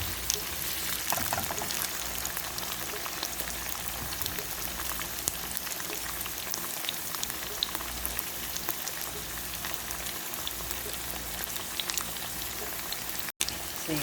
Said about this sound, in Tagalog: We're going to fry for about a few seconds.